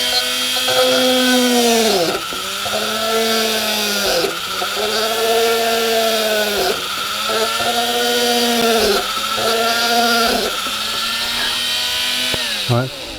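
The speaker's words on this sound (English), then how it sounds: "I'm just going to go off and start drilling holes." A small power drill whines in repeated bursts drilling holes in a 1/84 scale HMS Victory model, its pitch rising and dipping with each hole, five or six cycles close by.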